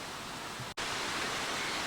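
Canonteign Falls in Devon, England's highest waterfall, gives a steady, dense rush of falling water, loud and close, broken by one very brief cut in the sound.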